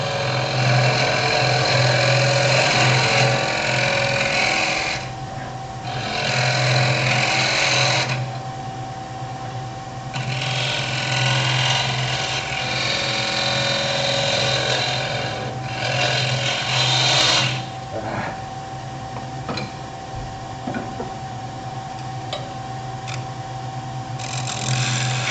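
A wood lathe hums steadily while a slightly radiused carbide scraper works across the bottom of a turned lidded box. Gritty cutting noise comes in bursts over a constant motor drone, close up, with no talk.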